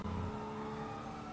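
Car engine roaring steadily at speed during a police chase in GTA 5, a continuous loud motor drone with no pauses across the short stretch.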